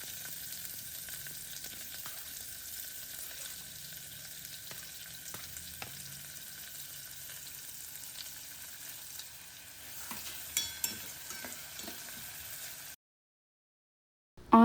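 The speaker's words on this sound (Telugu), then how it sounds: "ఇవి ఎర్రగా వేగాక ఇందులో ఆనియన్ వేసుకోవాలి." Onion sizzles in hot oil with mustard seeds, cumin and fenugreek seeds for a paneer curry, a steady close crackle with occasional stirring clinks before it cuts to silence.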